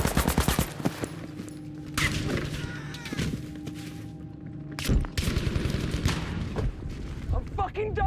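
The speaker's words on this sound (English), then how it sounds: "I'm shooting!" Loud, dense gunfire from the video game Battlefield V comes in rapid bursts, with bangs and heavy booms. A voice shouts over the firing.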